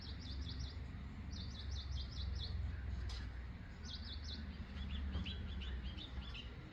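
Several birds chirp in quick bursts of high tweets over a low, steady background hum, fairly distant and soft.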